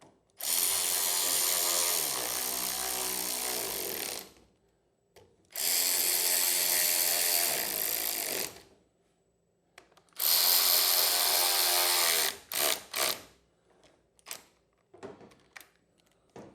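A ratchet or power driver tightens bolts in three loud, sustained whirring bursts of about four seconds each, separated by pauses and followed by short clicks and knocks.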